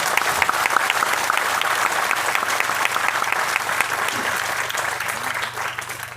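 An audience at a leadership training event in Kolkata applauds, a sustained, even burst of many hands clapping, moderately loud and steady throughout, with no speech over it.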